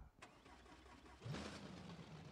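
A modded Dodge Charger R/T in BeamNG.drive cranks briefly, then its engine catches at about the one-second mark and settles into a steady, loud, low idle that runs to the end of the short clip, with no talking over it.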